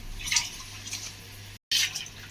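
Water splashes from a vessel into a cooking pot for chicken donne biryani with seeraga samba rice, a close, steady gush that stops briefly before a second pour.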